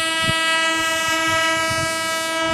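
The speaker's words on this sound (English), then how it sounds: "this is the sound of a train." A passing train sounds its horn in one long sustained blast, loud and near, over rumbling wheels and rhythmic clatter on the rails.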